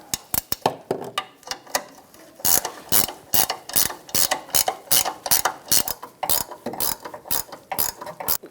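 A ratchet tightens nuts on a 2007-2017 Ford Expedition air spring, giving rapid bursts of loud, close clicking pawl strokes in uneven runs with short pauses between them.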